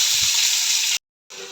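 Onion dropped into hot oil after cumin seeds, frying with a steady loud hiss that cuts out briefly and then resumes.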